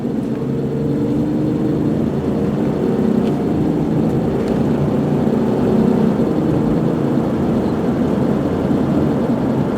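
A 2000 Ford Explorer XLT 4x4 with a 6-cylinder engine and automatic transmission cruising on the road near 55 mph, a steady low engine drone and road rumble heard from inside the cabin with no talking.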